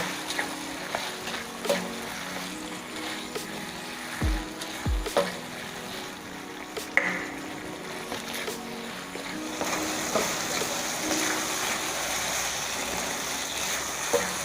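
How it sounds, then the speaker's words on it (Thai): Eggplant stir-fried over high heat makes a continuous sizzle, with irregular scrapes and clanks from tossing in the pan. A couple of low thumps come early, and the frying grows louder and hissier near the end. "ก็ผัด มะเขือคลุกเร็ว ๆ เลยนะคะ ตอนนี้เร่งไฟขึ้นมาได้เลยนะคะ"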